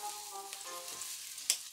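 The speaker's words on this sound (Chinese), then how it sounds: "好啦，啲姜咧就开始慢慢煎香啦" Ginger frying in a small amount of oil in a pan over medium heat, a soft steady sizzle with a brief sharper crackle near the end, close and fairly quiet.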